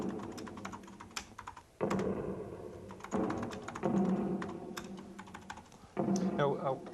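Typing on an Amiga computer keyboard in a word processor, 1985, with a steady run of close key clicks and taps, some heavier thunks from correcting typos, all over a humming background with a voice in the room.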